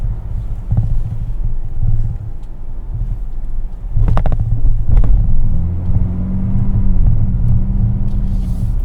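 A 2026 Ford Bronco Raptor on 37-inch tires accelerates, its engine rumble building and rising in pitch against wind buffeting, with a couple of sharp knocks near the middle.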